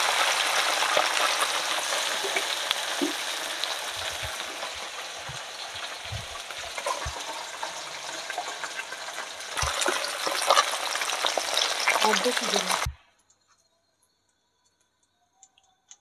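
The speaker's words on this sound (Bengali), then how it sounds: "ভালো করে না ভাজলে ভালো লাগবে না" Small Ganges river fish, including bele, puti and bata, fry in hot oil with a steady crackling sizzle and occasional stirring clicks for about thirteen seconds before the sound cuts off abruptly.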